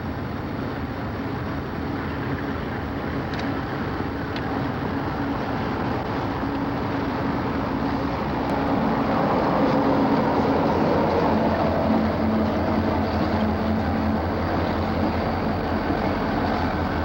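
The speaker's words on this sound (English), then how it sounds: "The first diesel painted in the new Conrail blue was number 3091, a GP40" A Conrail GP40 diesel locomotive gives a steady, loud low rumble with a sustained engine drone and rail noise. It swells slightly in the second half, and no voices are heard.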